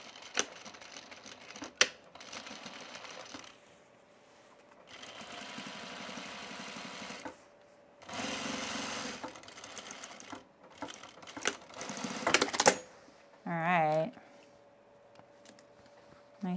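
A sewing machine stitches a seam on a handmade tool belt in several loud running bursts separated by pauses, with brief clicks and handling noises between them and a short whirring burst near the end.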